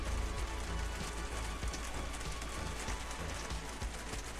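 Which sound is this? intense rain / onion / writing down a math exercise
intense rain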